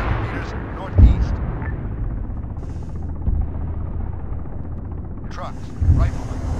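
A helicopter flies nearby, its steady rotor drone filling the clip, while a few heavy thuds land near the start, middle and end, with brief bits of voice over the din.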